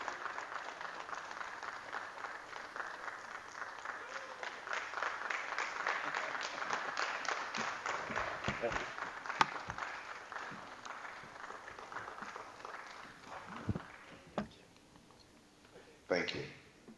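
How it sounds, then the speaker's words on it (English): An auditorium audience applauds to welcome the board chairman, producing a long, moderately distant wash of clapping that swells and then thins to a few scattered claps. A voice speaks over it. "Please keep the applause coming until he bounces the podium"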